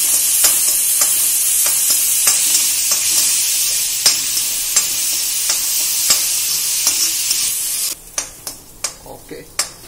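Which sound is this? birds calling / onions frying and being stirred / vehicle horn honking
onions frying and being stirred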